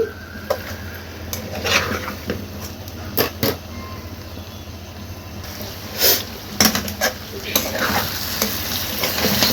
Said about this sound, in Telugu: కరేపాకు వేసుకొని ఫ్రై చేసుకోవాలి